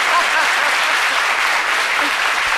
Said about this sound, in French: Il y a quelqu'un qui a failli applaudir, allez-y.